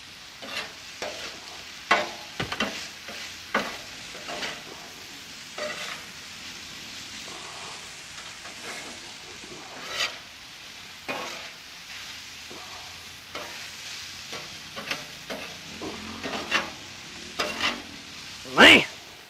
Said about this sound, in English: I'm going to let this sizzle for just a little bit